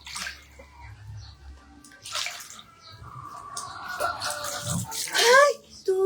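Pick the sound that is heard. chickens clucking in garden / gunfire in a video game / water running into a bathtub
water running into a bathtub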